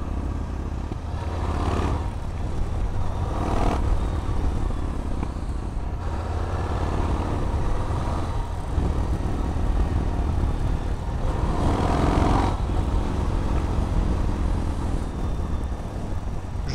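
Yamaha MT-01 from 2005 with its big V-twin engine, recorded while riding: a continuous loud low engine rumble with wind, rising and falling through the revs with no speech over it.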